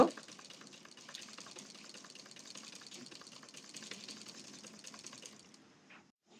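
A sewing machine stitching a 16-panel dress, a steady, moderately loud rapid mechanical whir that runs for about five and a half seconds before stopping, with no talking.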